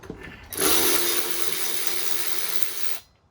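Ryobi 18V 3/8-inch cordless ratchet running to loosen a bolt, a loud, steady motor whir lasting about two and a half seconds before cutting off, close by with no talk.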